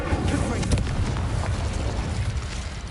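A fire spell from Hogwarts Legacy blasts a blocking pile of debris with a deep, roaring burst of flame that rumbles steadily, loud and close, while someone talks over it.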